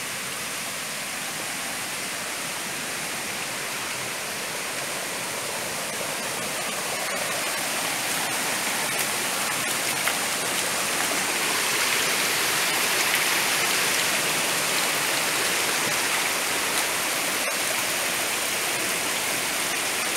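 Clear water pours steadily through a hand-dug channel beside a forest river, a continuous close rush that swells slightly louder midway and carries on without speech.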